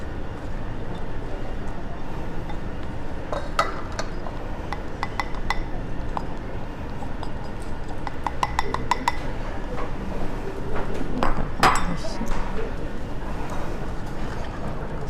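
Stirring a batter of wet and dry ingredients in a bowl: utensil clinks and scrapes against the bowl come in bursts, loudest near the end, over a steady background hum, with a faint voice now and then.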